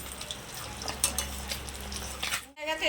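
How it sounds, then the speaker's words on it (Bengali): Pabda fish frying in hot oil in a wok, giving a steady close sizzle with a few metallic clinks of a utensil and faint voices in the background. "এবার সব পাবদা মাছগুলো আমি ভেজে নেবো"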